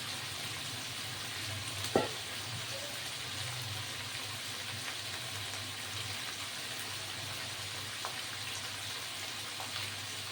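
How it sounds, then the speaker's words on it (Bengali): Chicken pieces for garlic chicken frying in a pan, a steady close sizzle throughout with one sharp clack near the start and a few faint knocks, no talking. "মাংসটা ভাজা হলে আমি একটু লাল করে ভাজা হবে"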